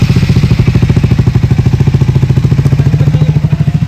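A motorcycle idles loudly and close by at the entrance to a hill wildlife sanctuary in Karnataka, a steady rapid thumping engine putter that carries on throughout.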